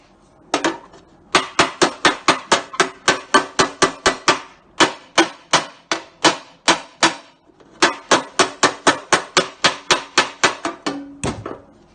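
A ball peen hammer taps up a dent in car body panel, striking in quick steady runs of sharp metallic knocks, close and loud, with brief pauses between bursts.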